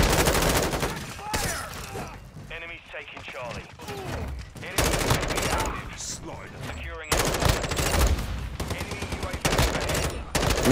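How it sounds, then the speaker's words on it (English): Dense gunfire in the video game Call of Duty: Modern Warfare II: loud, continuous bursts of shots with sustained automatic fire and effects, and voices talking over parts of it. "I'm shooting right at his head"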